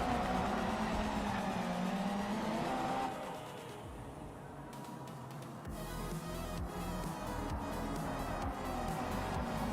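A Supra GT race car in Project Motor Racing 2.0 roars at high revs, drops to a quieter stretch midway, then climbs again with rapid gear changes and engine pulses, with no talking.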